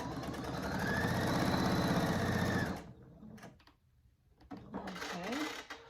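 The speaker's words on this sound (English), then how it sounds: "then I'm going to sew over the top fold like this." Home sewing machine stitching across the top fold of a fabric wallet, a steady close buzzing run of rapid stitches for about three seconds, then it stops and handling noises and a brief voice follow.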